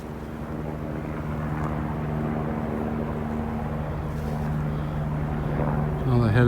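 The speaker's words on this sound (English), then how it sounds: "Another helicopter going off there." A helicopter flies over Swiss mountains near Blatten, giving a steady, distant rotor drone that holds evenly throughout with no one speaking.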